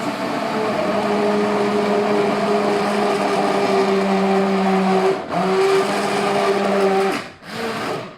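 A stick blender whirs steadily with a strong motor hum, cuts out briefly twice, then starts up again.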